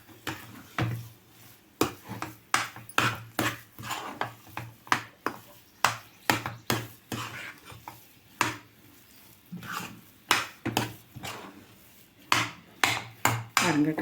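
A spoon stirs pineapple kesari in a pan on the stove, making repeated sharp metallic scrapes and taps against the pan in an uneven rhythm. The sound is close and moderately loud, with no talking.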